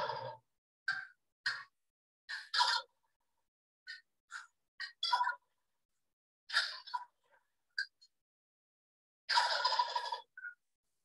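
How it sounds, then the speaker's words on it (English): Recorded wild turkey calls: loud rattling gobbles mixed with sharp, quick hen cutting clucks, arriving in separate bursts with silent gaps between them. "that's actually gobbling mixed in with a little bit of hen cutting"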